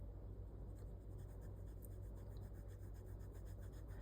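A Sailor Pro Gear Slim fountain pen with a 14 karat medium fine nib scratches steadily across paper, a soft continuous close-up rasp that goes on for several seconds under a low background hum, with no talking.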